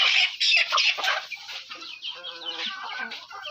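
Laying hens cluck in a small 10-by-12-foot poultry shed, a dense run of overlapping, fairly close clucks and calls that ease slightly toward the end.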